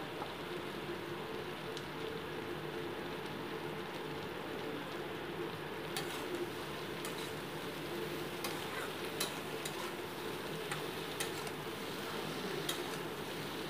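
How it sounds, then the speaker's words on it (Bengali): Eggplant pieces fry in a pan with onion, chili and potatoes for a chapila fish chachari and are stirred now and then. A continuous close sizzle carries occasional louder spatters and clinks, with no talking. "এবার কেটে রাখা বেগুনের টুকরোগুলো দিয়ে দিচ্ছি।"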